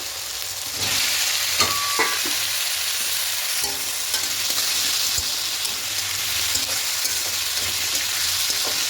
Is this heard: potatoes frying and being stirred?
yes